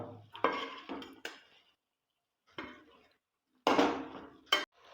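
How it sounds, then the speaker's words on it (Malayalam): A spoon stirs chicken in a metal cooking pot, giving a few close clattering scrapes and clinks in short bursts separated by quiet pauses. "ഒന്ന് ഇളക്കി കൊടുക്കാം നമുക്ക്."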